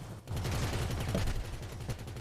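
Rapid gunfire in the video game GTA V aimed at a fleeing car's tires, a dense burst of repeated shots after a brief quiet start, loud and continuous for about two seconds.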